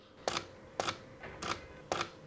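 A camera's shutter release clicks four times at an even, unhurried pace during extreme macro shooting with a Laowa 25 mm lens, each click sharp, close and isolated against quiet background hiss.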